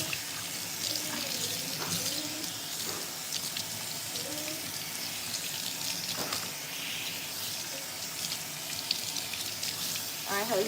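Tap water runs steadily while a child's hair is rinsed of shampoo at home, a continuous hiss of flow and splashing at a sink, with an adult talking intermittently over it.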